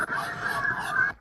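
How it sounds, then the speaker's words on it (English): Ducks in a park squabble and chase each other, giving a burst of loud, harsh honking calls that run together for about a second before cutting off. "Not the ducks chasing each other."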